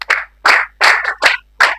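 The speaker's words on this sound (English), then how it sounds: "Let's clap for him." A classroom audience at a marathon mathematics lesson claps in five quick, loud bursts. The bursts come in an uneven rhythm, close up and clear, with no talking over them.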